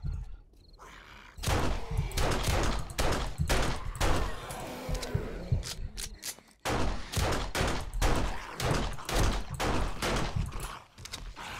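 A gun in 7 Days to Die fires in rapid repeated bursts of loud, sharp shots with short pauses between volleys, close and dominant throughout.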